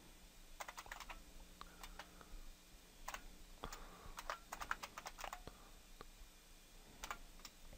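A password is typed on a computer keyboard in quick, uneven bursts of light clicking keystrokes, close and fairly quiet, with brief pauses between runs.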